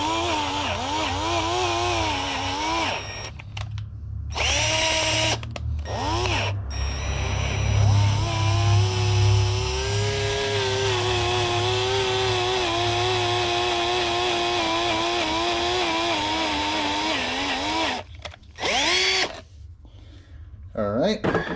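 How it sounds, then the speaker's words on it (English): A power drill bores into metal during a fuel pump install on a supercharged C5 Corvette, running loud and steady for most of the stretch with a few brief stops and restarts. "and continue to drill"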